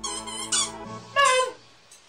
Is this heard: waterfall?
no